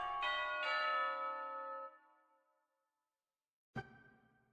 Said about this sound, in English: I got some bells.